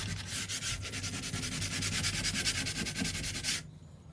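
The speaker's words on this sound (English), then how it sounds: "using an 80 grit sanding pad and folding it in half as shown here required some elbow grease" An 80 grit sanding pad, folded in half, is rubbed by hand across a front door: rapid, rhythmic back-and-forth scratchy strokes, close and continuous, then stopping abruptly near the end.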